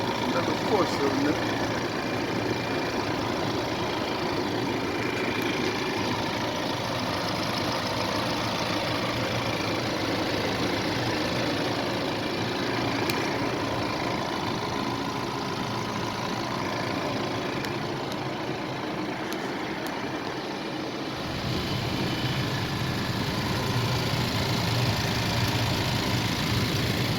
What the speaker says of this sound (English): Check out this engine and see what we got.